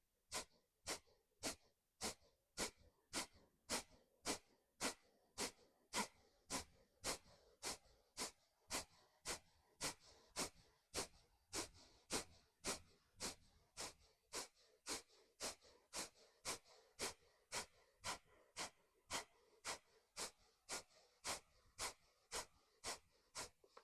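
Rapid, forceful pumping breaths during a home breathing exercise, a long even series of sharp puffs at a steady quick rhythm, close and alone.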